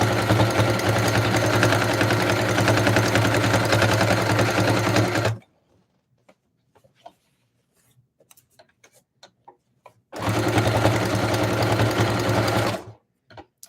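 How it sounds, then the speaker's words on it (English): A sewing machine runs decorative stitches on fabric scraps in a fast, steady stitching whir for several seconds, stops for a quiet stretch with faint clicks, then runs again briefly. "this is a good way to use all the decorative stitches on your sewing machine"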